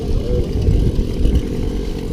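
A small moped engine close by, droning loudly and unevenly as it is pushed and revved, with a rough rattling low end throughout.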